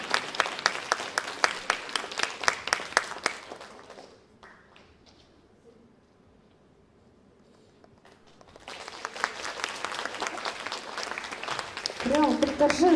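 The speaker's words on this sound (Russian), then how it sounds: "Прям торжественная овация!" Enthusiastic audience applause fills a hall, with loud sustained clapping that fades into a near-silent pause, then swells again into a second strong round of clapping. Voices can be heard among the crowd.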